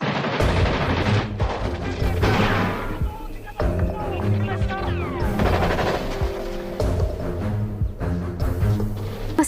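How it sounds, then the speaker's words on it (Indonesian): Bursts of gunfire crackle and pop in rapid volleys during a jungle skirmish, with loud overlapping shots and short pauses, close and intense throughout. "Meskipun sempat terjadi kontak senjata"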